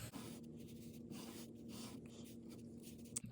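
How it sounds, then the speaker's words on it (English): A pen scratches across paper while a parachute is sketched, in short quiet strokes separated by brief pauses, close up with a faint tap near the end. "we can illustrate that by drawing a parachute"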